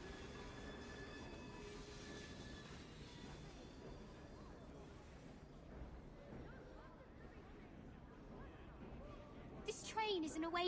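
A moving train in Assassin's Creed Syndicate gives a steady low rumble and clatter throughout, with muffled voices over it and a brief brighter burst near the end.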